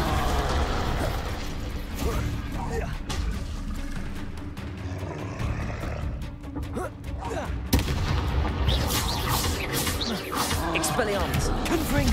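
Incendio fire spell cast in Hogwarts Legacy during combat, heard as a dense, loud run of booming blasts and crackling bursts with a sharp hit near the middle, continuous throughout.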